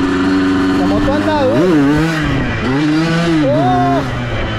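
A motorcycle fitted with a Yamaha YZ 125 ignition revs hard through the gears, the engine pitch climbing and dropping in loud, close surges, with a voice talking over it.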